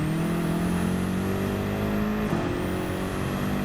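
Race car engine in Gran Turismo 7 at the Nürburgring Nordschleife climbs steadily in pitch under acceleration, a loud continuous drone with a brief dip around a gear change before it keeps rising.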